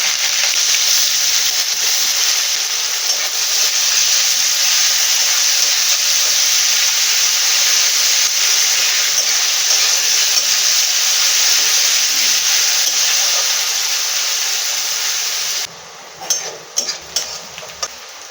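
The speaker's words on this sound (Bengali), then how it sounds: "পেঁয়াজটা ভাজা হয়ে গেছে" Chopped onions fry in oil after a tempering of cumin, dried chilli, cardamom, clove and cinnamon for a mushroom curry, a continuous loud sizzle that cuts off near the end, followed by a few sharp taps.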